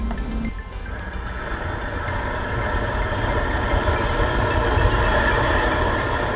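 A 200,000 BTU gas wok jet burner roars steadily at high flame, a loud low rumble that grows slightly stronger and stays constant, with no talking.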